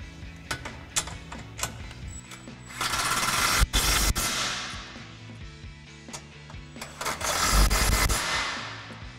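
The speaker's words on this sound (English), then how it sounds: "tighten our bottom 13 millimeter combo bolt as well as our main bracket mounting bolt to the body with our 13 mil socket on our impact" Impact wrench driving 13 mm bolts into a step bar bracket on a Jeep Wrangler JL, rapid rattling hammer bursts in several short runs with louder sustained bursts near the middle and end.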